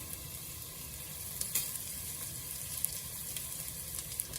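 Garlic and wudham frying in hot oil with popped mustard seeds give a steady, faint hiss of sizzling, broken by a few small crackles and ticks, with no speech.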